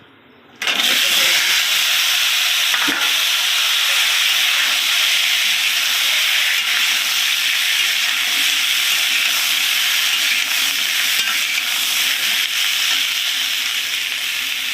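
Potatoes and red chillies frying in a pan for a Bengali taro and tengra fish dish give a loud, steady sizzle and hiss that bursts in abruptly and runs unbroken, with no talking.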